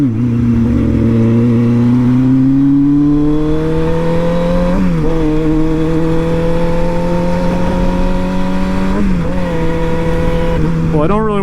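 A motorcycle engine runs steadily and loud throughout, its pitch climbing gradually as it revs up, with brief dips and blips of the throttle around the middle and near the end.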